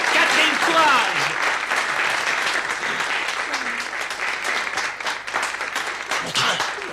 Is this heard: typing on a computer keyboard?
no